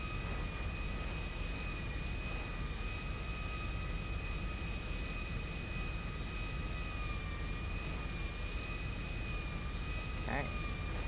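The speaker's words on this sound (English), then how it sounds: "Fox Air 26, successful landing at Arctic, taxiing to hangar" A video-game airplane rolling along after landing at an Arctic airfield and taxiing toward a hangar, with a steady engine drone and a constant broadband roar through the whole stretch.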